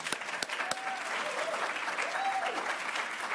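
An audience at the welcome session of a causal inference and population mental health event applauds steadily throughout, a sustained wash of many clapping hands.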